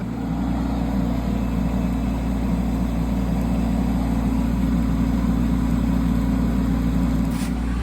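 A digger's engine runs steadily while backfilling a collapsed main drain, a loud continuous low diesel rumble with a constant hum and no clear changes throughout.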